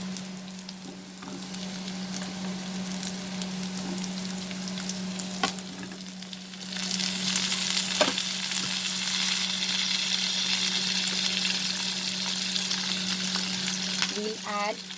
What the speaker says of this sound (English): Now we will add the onion and the tomatoes also.